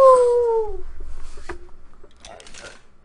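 In the game Papers, Please, a dog gives a single high, falling whimper-like whine at the start. It then fades into faint, scattered rustles and soft noises.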